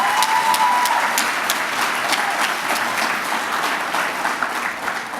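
Dense, steady applause from an audience at a regional all-star awards gala, holding at full strength for the whole stretch with no voices on top.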